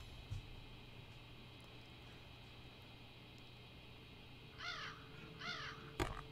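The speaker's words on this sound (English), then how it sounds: "Hey, I hear a friendly crow." A crow caws in the video game Sense, two or three harsh calls a second apart over a steady low ambient hum, fairly quiet, followed by a brief sharp click.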